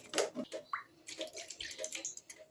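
Water poured into a bowl while preparing batter for KFC-style chicken popcorn at home, a few irregular splashing and trickling bursts close by, fairly quiet.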